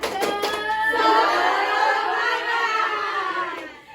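A classroom of children led by a teacher chants the rhythmic 'tepuk semangat' clapping cheer, a loud group of young voices with a few sharp claps near the start that gives way to sustained, overlapping shouting.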